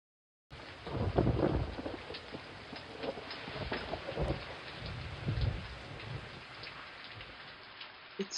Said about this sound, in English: Thunder and lightning rages every second.